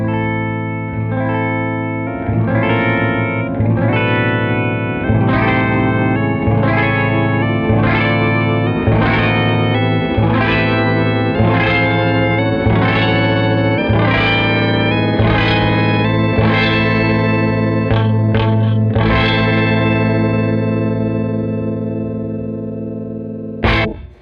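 A guitar runs through a Mirror House pitch shifter in Shift Mode with only the upper voice at halfway, giving dense, shimmering, detuned intervals over sustained chords. The rhythmic strums ring out loud and close, ending in quick stabs.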